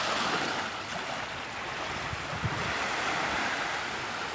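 Steady broadband wash of surf on a beach at sunset, continuous and fairly even with wind mixed in, no voices.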